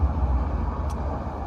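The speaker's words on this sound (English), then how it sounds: "Sorry if you can hear the traffic." Steady road traffic passing outside on a hot afternoon, a continuous low rumble of engines and tyres with no voices, holding at an even level throughout.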